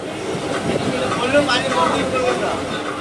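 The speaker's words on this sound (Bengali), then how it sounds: "তিস্তা তোরসা এক্সপ্রেস ঢুকছে" The Teesta Torsa Express pulls into Bandel station with a loud, continuous rumble and faint rail clatter close by, while voices talk over it.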